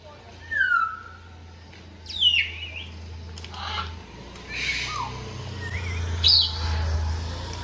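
Several different zoo birds call loudly in turn, with sharp chirps and sweeping whistled cries rising and falling over about seven seconds, set against a low steady hum and faint background talk.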